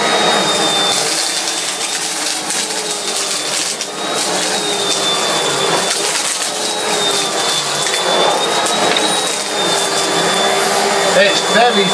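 A Hoover Whirlwind WR71 vacuum cleaner runs loud and close while pushed over a deep carpet, its steady motor whine broken by brief dips and scraping surges as it moves.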